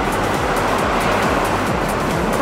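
Continuous roar of surf at Patong Beach, Phuket, Thailand, with strong waves washing and churning close by, loud and unbroken.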